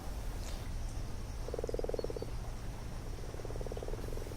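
Frogs croak at a garden pond in spring, pulsing rattling calls in two clear bursts, one near and strong, a second softer and longer, over a steady low outdoor hum with faint insect-like chirps.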